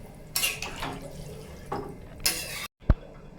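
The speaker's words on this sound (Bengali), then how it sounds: "এবার আবারও পরিমাণ মতন জল দিয়ে দেবো, যাতে করে কিনা আলুটা সেদ্ধ হয়ে যায়।" Water splashes into a pan of katla fish curry with cauliflower and potatoes in a short, close pour, followed by a brief sharp clink after a moment of quiet.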